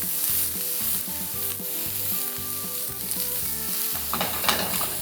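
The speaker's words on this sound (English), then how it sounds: "Make sure it has that nice sizzle." Sausage fries with a steady sizzle filling the pan, with stirring and tossing sounds breaking through, loud and close, no voices.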